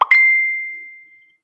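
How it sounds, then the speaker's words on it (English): A single short phone notification chime: a soft pop followed by a clear ringing tone that fades out over about a second. "I've got my phone is beeping at me."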